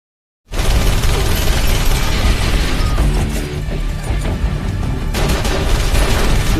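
A thrown bag detonates in a Hitman action film, opening with a sudden loud blast that rolls into a sustained dense roar of crashing debris and rumbling, with scattered sharp impacts and bursts layered through.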